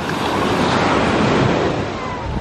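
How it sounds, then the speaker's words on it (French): Heavy surf crashes and roars on Grand Anse beach in Guadeloupe, big rough waves breaking close by in a loud, dense wash mixed with wind buffeting, with no pause throughout. "On m'avait dit de venir parce que les vagues étaient incroyables."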